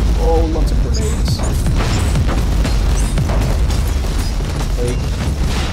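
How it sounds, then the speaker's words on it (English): Grenades burst one after another in the Warhammer 40K: Inquisitor - Martyr video game, loud booming explosions packed densely together over a constant roar of battle with no pause. "Oh, lots of grenades."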